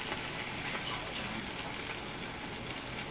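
Cheese coated in a light batter mixture frying in a pan, a steady broadband sizzle and crackle throughout with one brief sharper pop midway.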